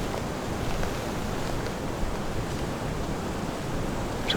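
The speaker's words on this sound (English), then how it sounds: "The wind actually picked up" Wind blows outdoors in the woods during late-season bowhunting, a steady broadband rush with mild gusty swells, continuous throughout and close to the microphone.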